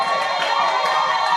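A church congregation shouts cries of joy at a French-language prophetic sermon, a dense loud wash of overlapping voices and cheers with no distinct words.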